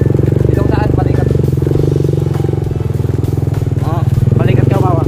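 A motorcycle engine drones steadily and loudly uphill on Mount Mataba with a passenger riding pillion, the rough throbbing note constant throughout while people talk over it.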